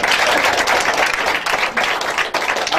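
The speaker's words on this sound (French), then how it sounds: "On acclame le Seigneur." A church or worship crowd applauds loudly and steadily to acclaim the Lord, dense clapping filling the space without pause for a few seconds.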